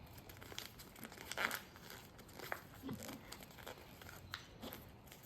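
A sheet of paper being folded and creased into a paper claw, with soft crinkles and sharper rustling bursts spread irregularly across the stretch, close and fairly quiet.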